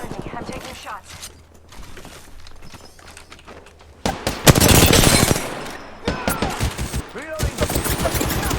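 Rapid bursts of Apex Legends gunfire, quiet and scattered at first, then loud dense volleys in the second half, mixed with game mechanism sounds and voices.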